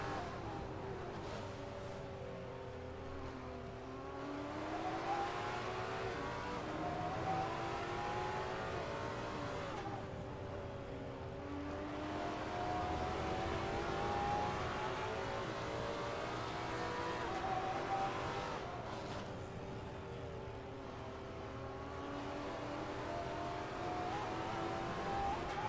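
A Porsche GT4 race car in a sim racing game at Brands Hatch, its engine revving up through the gears in repeated rising sweeps with downshifts between, steady and mid-distance.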